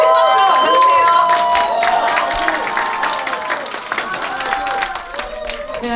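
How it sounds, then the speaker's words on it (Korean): Applause and cheering from a crowd at a labor movement forum in Seoul, welcoming a union member to the stage; broad, sustained clapping fills the space with shouts mixed in and voices faintly underneath. "정한님을 큰 박수로 맞아주세요"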